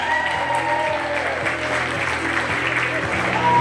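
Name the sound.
applause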